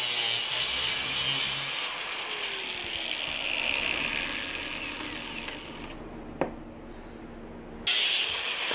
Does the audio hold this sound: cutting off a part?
yes